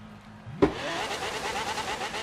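Modded Lamborghini Centenario in Forza Horizon 3 fires up with a sharp starting bark, then settles into a loud, steady high-pitched engine drone held close and alone.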